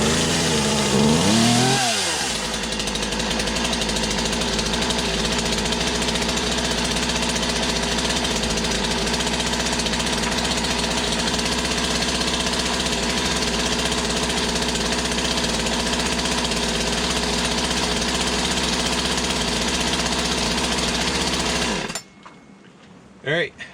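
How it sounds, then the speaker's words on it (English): Poulan chainsaw with a newly fitted cylinder and piston, its small two-stroke engine idling steadily and loudly up close for about twenty seconds before cutting off abruptly. "seems like it's got a good idle, so that's a new cylinder, new piston put on"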